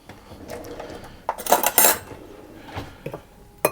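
Very sticky chopped cherries tipped into flour in a bowl and mixed around for Christmas cakes: soft shuffling and a few light clinks of a utensil against the bowl, clustered near the middle and ending in a sharp tap.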